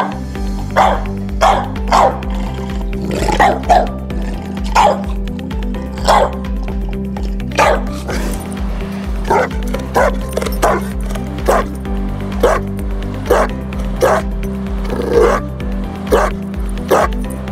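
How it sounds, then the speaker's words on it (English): English and American bulldogs bark loudly and repeatedly, deep rhythmic woofs close by over a steady low hum, the barks coming in uneven bursts across the whole stretch without any talking. "Powerful and loudest bark. Let's hear it first and we'll decide accordingly."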